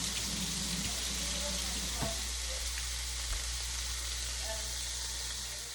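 Shrimp frying in a hot pan for shrimp and grits, a steady close sizzle and crackle running throughout with a few faint stirring clicks.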